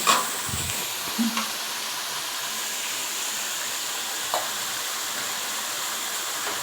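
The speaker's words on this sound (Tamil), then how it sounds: "இப்போ எல்லாத்தையுமே போட்டு நல்லா வதக்கணும்" Ingredients for vada kara kuzhambu sauté in a pan with a continuous close, even hiss of frying, broken by a few soft stirring knocks.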